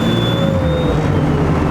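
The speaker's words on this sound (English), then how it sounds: "And then there's some turbo noise." A second-generation truck fitted with compound turbos drones steadily from inside the cab, with a thin, faint turbo whistle running above the engine rumble.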